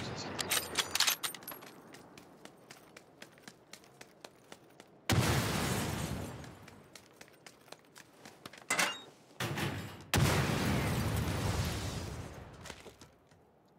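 Video game explosions arrive in separate bursts, with two long, loud roaring blasts and a shorter one between them, after a stretch of lighter clattering and tapping.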